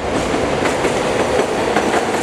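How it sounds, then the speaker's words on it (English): An elevated New York subway train runs on the tracks overhead, a loud, close, continuous rumble with rhythmic clattering of wheels over rail joints and no voices. "The train is running above us right now."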